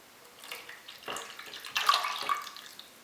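Cooking liquid from a chicken is poured into a Kerala-style varutharacha chicken curry gravy, giving short splashing, trickling pours in a few bursts, close and moderately loud, with no talking.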